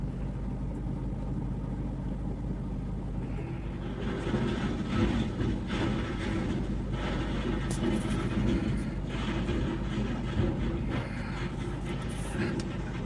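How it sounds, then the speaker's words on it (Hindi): A loaded tipper truck runs its engine as the hydraulic jack raises the bed. There is a low, steady mechanical rumble, and it grows louder and busier partway through, with occasional clanks. "अब ये देखिए जैक उठ रहा है गाड़ी का।"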